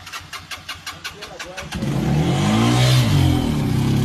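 A motorbike engine putters in short rhythmic pulses, then roars up into a loud, sustained rev that holds close and strong to the end, with no talking.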